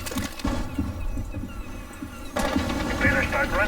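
Gunfire in Rainbow Six Siege, rapid bursts of shots cracking in quick succession, pausing briefly and then resuming louder, with a voice talking over the action.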